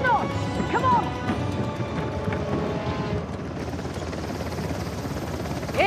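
A helicopter in the Uncharted: The Lost Legacy video game, a steady whirring rotor drone under crashing action sounds and music, with people's voices mixed in.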